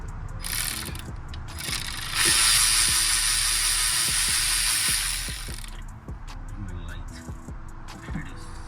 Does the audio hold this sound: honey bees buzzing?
no